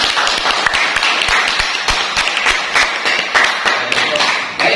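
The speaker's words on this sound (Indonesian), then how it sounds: "Berikan aplaus untuk kelompok yang pertama" A classroom group claps for the first team after its presentation, with brisk, uneven claps from a small crowd close by and a few voices mixed in.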